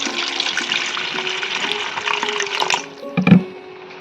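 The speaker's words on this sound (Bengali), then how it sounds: "এবার বাটিতে কিছুটা জল দিয়ে তেঁতুলগুলোকে ভিজিয়ে রেখে দেবো" Water is poured into a bowl to soak ripe tamarind, a continuous close splashing flow that eases off near the end with a final burbling splash.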